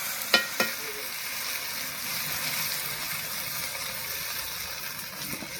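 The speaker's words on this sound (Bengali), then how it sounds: "মশলাটা একটু ভালো করে ভেজে নিই" Spices sizzle as they fry in a pan while cooking on an open rooftop in cold weather, a steady close hiss with a couple of sharp clinks of stirring near the start and at the end, and no talking.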